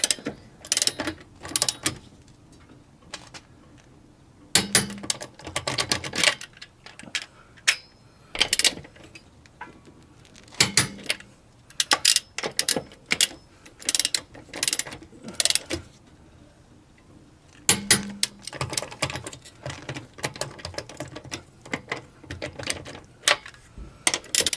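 A torque wrench tightening car wheel lug nuts to 100 foot-pounds during a winter wheel swap makes bursts of sharp ratcheting clicks, with pauses between each nut and faint handling noise in the gaps.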